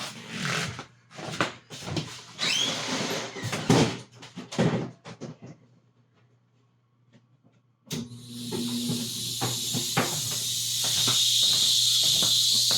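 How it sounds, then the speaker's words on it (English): An air compressor kicks on partway through, a loud steady hiss and hum for airbrushing a splatter effect, following a stretch of clattering handling noises and a brief quiet pause. "turn my air compressor"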